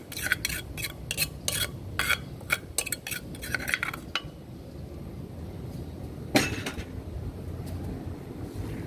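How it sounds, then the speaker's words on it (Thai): Chili paste mixed with canned fish is stir-fried in a pan, with rapid metal spatula clinks and scrapes for several seconds, then a quieter sizzle broken by a few more strokes. "เราก็จะมาผัดกันนะคะ ผัดให้หอมดีเลยนะคะ"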